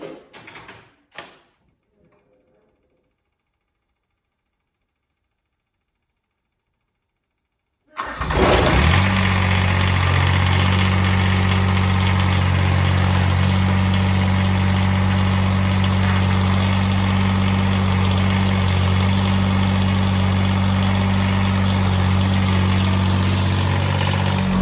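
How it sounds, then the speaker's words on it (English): A diesel John Deere 332 garden tractor does a cold start in snowy conditions. A few faint knocks come first, then several seconds of silence, then the engine catches and settles into a loud, steady, close idle. "So I'll jump on the tractor, do a cold start"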